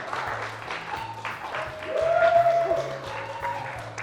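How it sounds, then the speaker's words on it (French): Studio audience applause during a French television show's tenth-anniversary celebration, a moderate crackle of clapping with voices and a sustained tone over it. "Applaudissez encore une fois."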